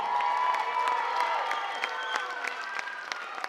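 An audience at a hula event with a kumu gives loud applause mixed with cheering and a few whoops, a dense steady crowd sound close by with sharp shouts scattered over it.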